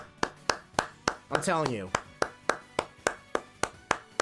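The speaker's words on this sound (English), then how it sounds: "I want to give a round of applause to both of you." Steady, evenly spaced single hand claps at a video game tournament final, about three per second, with a brief spoken phrase cutting in near the start.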